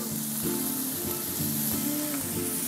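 Loud, steady sizzling and crackling of food frying in a hot pan, with a few scraping stirs.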